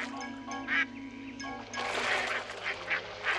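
Ducks in the Tablas de Daimiel wetland in Spain give repeated nasal quacks, scattered and overlapping at moderate distance, with brief honking calls mixed in.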